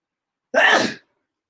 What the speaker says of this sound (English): I had to sneeze, so I sneezed.